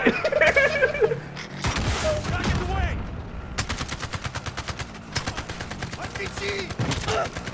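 Automatic gunfire from Call of Duty Warzone on PS4 Pro rattles in loud, rapid bursts with heavy booms, close and continuous, while a player's voice talks over the shooting.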